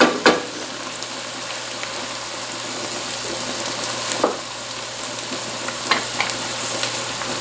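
Green onions go into a simmering Cajun jambalaya pot, giving a steady, close sizzle with a few sharp scrapes and knocks of stirring and no talking.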